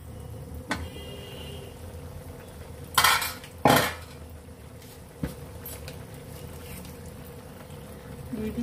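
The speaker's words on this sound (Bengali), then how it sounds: "এবার ঢাকা দিয়ে সেদ্ধ করে দিই।" A metal lid set onto a cooking pot of okra and eggplant curry, with two bright clattering clanks close together, then faint ticks over a low steady background.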